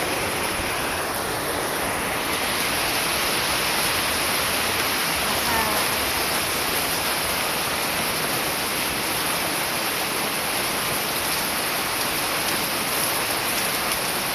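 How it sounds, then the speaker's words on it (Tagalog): Heavy rain pouring steadily outdoors, a dense unbroken hiss of drops on surfaces that stays loud and even throughout, with no speech. "Grabe na ang ulan."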